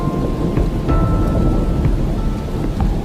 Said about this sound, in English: the rain just gets to be a bit too much